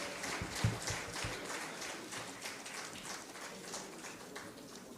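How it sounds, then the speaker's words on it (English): Faint, distant audience applause welcoming a speaker at a leadership conclave, a diffuse patter of many hands that stays soft and steady throughout. "Please welcome Sir with a very big round of applause"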